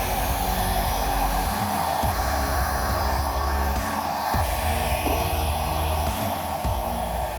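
A hair dryer roars steadily and loudly close by, blowing wet acrylic pour paint across a canvas to blend it, with a constant airy whoosh and slight shifts in tone as it moves and no talking.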